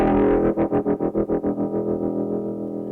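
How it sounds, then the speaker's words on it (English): A brightly picked guitar chord runs through a distortion effect on an effects unit, sounding as a gritty, sustained tone that pulses rapidly and then fades into a steadier ring. "So here's a bit of distortion."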